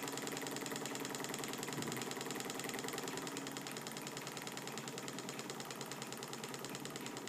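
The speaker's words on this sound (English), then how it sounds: "It's powered by that little spirit burner in the front there that's running on" A small sealed atmospheric Stirling engine heated by a little methylated spirit burner, giving a steady, fast, even mechanical whir and ticking that runs unbroken from start to finish, with no voices.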